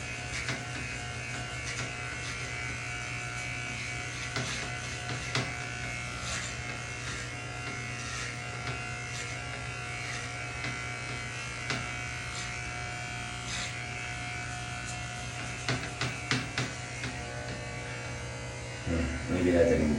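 Electric hair clippers fitted with a 3/4 inch guard buzz steadily while someone cuts their own hair. The hum is constant and fairly quiet, with a few small bumps and handling noises, and a voice is faintly present.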